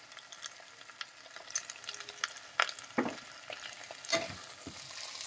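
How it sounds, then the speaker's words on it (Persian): Turmeric and black pepper sauté in a pan with salt, giving a soft steady sizzle and frying hiss broken by several scraping stirs of a utensil, close and moderately quiet, with no voices. "بعد از اون میان زردچوبه و پودر فلفل سیاه رو اضافه می‌کنیم، کمی تفت می‌دیم همراه با کمی نمک."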